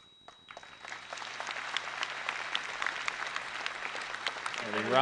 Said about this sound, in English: A round of applause and an ovation here for Skylar Adams